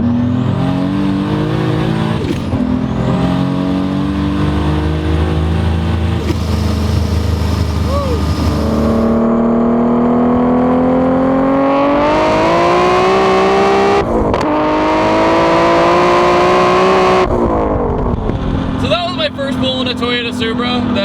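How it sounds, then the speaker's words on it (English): A 1000HP Toyota Supra accelerates hard with its turbo spooling up, loud and close, the engine note rising in pitch through several gear pulls with brief breaks between shifts, under a rough, roaring exhaust. "Just the sound of it is so nuts, because you hear it starting to spool up"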